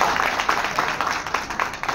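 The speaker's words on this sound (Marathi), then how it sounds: "महिला एकट्यांचे त्यांच्यासाठी जोरदार टाळ्या झाल्या पाहिजे" Applause breaks out for the women at a Mi Lifestyle achievers' gathering in Hyderabad, a steady, fairly dense patter of many hands clapping through the moment at moderate loudness.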